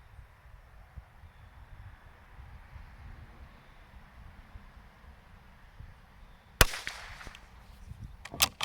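Shots from a Bergara BMR Carbon .22 Long Rifle crack outdoors after a stretch of quiet wind, one sharp report followed by a couple of fainter, brief pops near the end.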